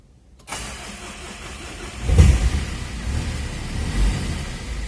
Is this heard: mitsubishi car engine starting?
yes